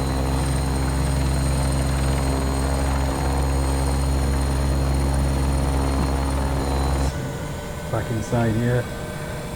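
Bell 412 helicopter in a flight simulator game at London Gatwick, a loud steady rotor and turbine drone that drops abruptly near the end, with someone talking over it.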